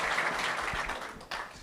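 Audience at an AUSIM Ftour gathering applauding for the École Hassania des Travaux Publics, a dense, steady wash of clapping that holds throughout, briefly dipping near the end before resuming.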